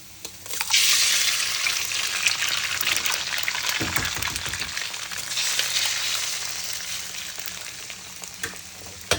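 An egg frying in a pan over low heat, giving a bright, continuous sizzle that rises sharply at the start and stays loud with a few clatters, no voices.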